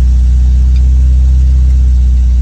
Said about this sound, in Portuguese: Vou segurar um pouquinho no acelerador aqui pra ele esquentar